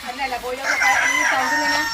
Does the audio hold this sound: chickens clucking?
yes